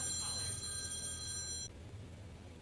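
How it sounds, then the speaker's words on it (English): A telephone rings in a cluttered old toy and model train shop, a steady electronic trill sounding for about a second and a half before cutting off, with a low hum of room noise beneath and no talking. "Phone call, sorry about that."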